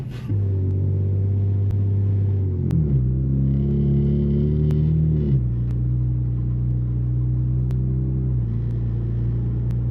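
Deep, steady aftermarket exhaust rumble from an Infiniti Q50 with an ISR exhaust cruising at moderate speed, with gentle pitch shifts as it changes pace and faint ticks in the background.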